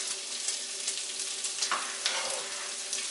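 Onions hit a hot pan and fry with a continuous close sizzle and crackle, a few soft scrapes and pops rising above the steady hiss.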